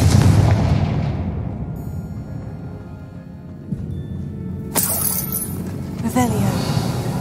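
A Confringo blasting curse explodes in the Hogwarts Legacy video game, a loud booming burst followed by a crackling, shattering tail, with game sounds beneath and a voice speaking.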